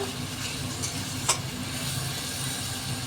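Masala spices sauté in hot oil for a Bengali doi chicken curry, giving a steady close sizzle with a soft stirring scrape and one brief clink.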